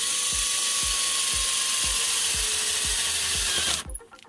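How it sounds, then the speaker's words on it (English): Power drill boring into a clothing security tag on a pair of pants: a loud, steady high whine with regular ratcheting clicks roughly twice a second, cutting off abruptly near the end. "I'm gonna continue to drilling that and exposing those."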